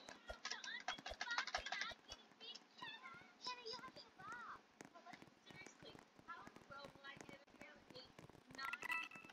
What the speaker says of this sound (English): this is gonna be some keyboard ASMR because you can kind of hear my keyboard